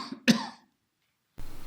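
A single sharp cough with a rough throat-clearing edge, close and fairly loud, followed by silence and then a low steady rumble of room noise.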